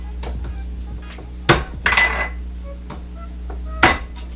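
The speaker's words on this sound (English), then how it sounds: "Let me just pound this nutmeg a little bit" Whole nutmeg pounded for a Caribbean sausage spice mix, a few sharp knocks with clinking overtones spread across several seconds, close and fairly loud over a low steady hum.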